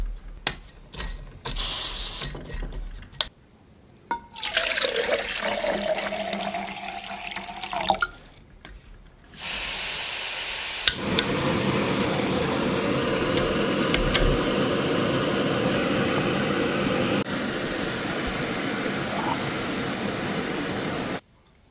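Jetboil camping stove heating water toward a boil, starting with scattered clicks and gurgles, then a loud steady burner roar with bubbling hiss that holds to the end, close by and without talk.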